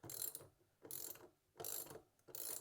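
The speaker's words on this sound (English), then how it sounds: "I think I should just be able to undo these 5 bolts" Ratchet wrench undoing the rear sprocket bolts on a Ducati Hypermotard 698, four quick rhythmic bursts of close clicking pawl strokes separated by short pauses, with no talking.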